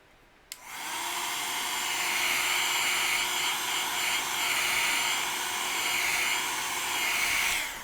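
A hair dryer switches on with a click and blows steadily at a constant high whine while drying a chalk-painted kitchen knife holder, close and even with slight wavering as it moves.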